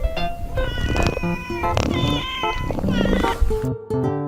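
A domestic cat meows several times in a row, loud and close, with other tonal sound running underneath.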